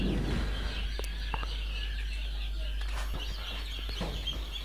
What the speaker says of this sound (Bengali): এই যে কিছু টাইগার মুরগির বাচ্চা, এগুলো আজকে ডিম থেকে বের হইতেছে